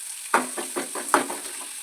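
Half an onion frying in a pan of oil, with a few soft scraping stirs over a faint sizzle, close and fairly quiet, no voices.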